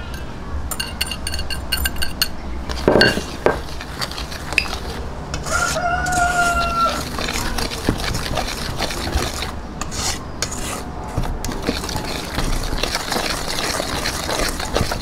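Puto batter stirred in a bowl, the dry ingredients including baking powder and brown sugar: steady rasping, scraping strokes against the bowl with occasional light clinks, close and fairly loud, no talking.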